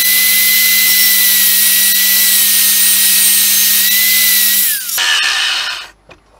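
Power tool trimming the edge of a custom expansion bottle for a GSXR 1000 streetfighter build: a loud, steady high-pitched whine running for nearly five seconds, then winding down and stopping, with a few clatters as it ends.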